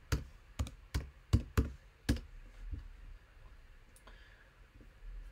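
A handful of crisp, distinct keystrokes on a computer keyboard at close range, coming in an uneven rhythm and then trailing off into quiet room tone as a search query is entered.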